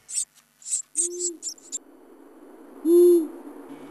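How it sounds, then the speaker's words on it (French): A long-eared owl gives two low, soft hoots spaced about two seconds apart, the second louder, after a few high chirps from small birds, against quiet background noise. "Oh, un hibou moyen-duc."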